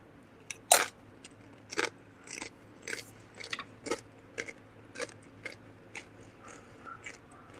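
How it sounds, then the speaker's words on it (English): Chips crunched and chewed right at the mouth give a steady run of crisp bites roughly every second, loud and close, with soft crackling mastication between them and no voices. "Hopefully you can hear me crunching on my"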